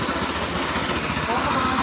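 A small power weeder engine runs right after starting, with a rough, rapid, steady chugging close to the microphone that fills the whole short stretch.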